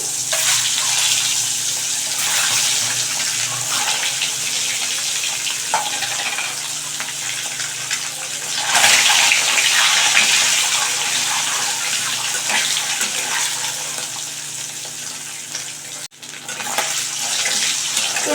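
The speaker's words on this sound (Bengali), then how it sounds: "তেলটা গরম হয়ে গেছে এবার এখানে আমি ডিমগুলোকে ফ্রাই করে নিচ্ছি" Eggs frying in hot oil in a pan for a coriander-leaf egg curry, a steady loud sizzle and crackle running continuously with brief bursts of spatter, no talking.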